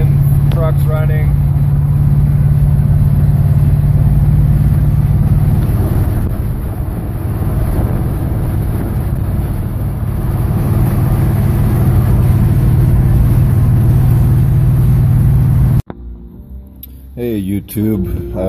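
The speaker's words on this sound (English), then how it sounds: "As you can see, the fuel's working. It's getting to the engine. Truck's running." A Chevrolet C10 truck engine, running on a bypassed fuel system, gives off a steady low idle hum heard from inside the cab, cut off suddenly near the end, when a brief voice follows.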